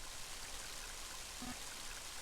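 Heavy rain in the video game Mother 3, a steady, even hiss of downpour filling the scene without pause, with no voices over it.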